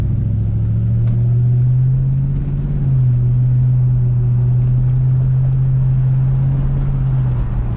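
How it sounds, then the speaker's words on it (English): A 1997 Ford Mustang GT SN95's steady, deep V8 exhaust rumbles continuously at close range, holding a low drone with a slight dip in pitch partway through. "We'll get a little exhaust sound, nothing too crazy. Let's just see how she sounds."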